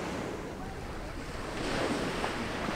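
Gulf of Mexico surf washing ashore along the beach, a soft steady rush of water with wind buffeting the microphone, swelling slightly louder toward the end.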